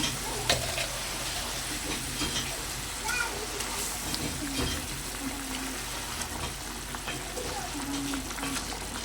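Katla fish pieces go into a strongly boiling oily curry for a tel jhal, with a continuous close bubbling sizzle and stirring scrapes throughout, with no clear speech.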